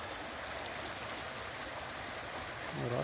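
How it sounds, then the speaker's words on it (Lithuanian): A small stream running down from the mountains in Virginia gives a continuous close burble and rush of water, with a low rumble rising at the very end. "O, nedidelis kažkoks upelis."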